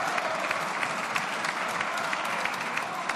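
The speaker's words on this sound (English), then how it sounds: "Unfortunately, the applause is premature." Members applauding in the House of Commons chamber, a steady crowd of clapping hands with sharp individual claps standing out, moderately loud and continuous, with no speech over it.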